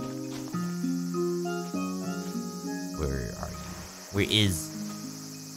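A cicada in Animal Crossing New Leaf drones with a buzzing chirp amid game music tones, with a brief spoken fragment and a louder rising sweep near the end.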